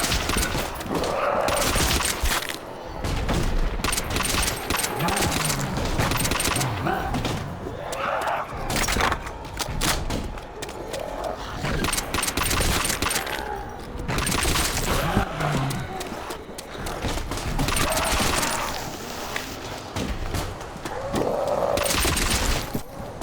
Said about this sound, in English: If they can use real brand names like Colt, though, why not call this one the AK-47?